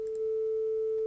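A steady pure sine tone from a Max/MSP oscillator holds one pitch and swells smoothly in volume over its first moments, with no clicks, then sustains evenly and alone.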